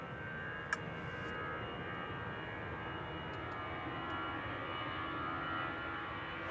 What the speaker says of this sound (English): A320 Classic on the roll.